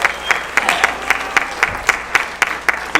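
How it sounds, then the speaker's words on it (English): Theatre audience at a United Way community event applauding steadily, dense clapping with sharp individual claps cutting through, fairly loud and sustained throughout. "Let's give them a round of applause."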